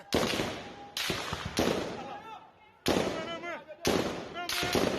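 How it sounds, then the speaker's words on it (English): Several sharp, loud gunshot bursts in quick succession, some overlapping, with echoing tails and voices shouting in between. "listen to the gunshots."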